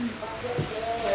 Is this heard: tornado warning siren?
no